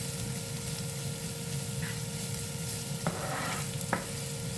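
Onions sautéing in a pan for pork giniling give a steady, soft sizzle with a faint hum underneath, and a few light scrapes of a utensil come near the end. No one speaks.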